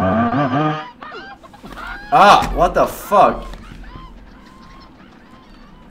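In the horror game Hand Simulator Horror, a chicken squawks in a few loud, close honking bursts after a man's startled exclamation, then the sound fades into quiet background noise.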